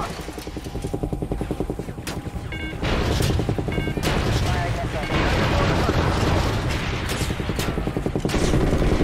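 A missile launch and heavy combat fire in the Call of Duty Ghosts video game, dense loud rumbling blasts and bursts running steadily throughout, with radio voices talking over the barrage.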